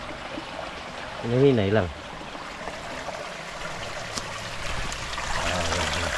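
Creek water flows steadily with a soft broadband rush, heard close and continuous; a voice speaks briefly near the start over the stream.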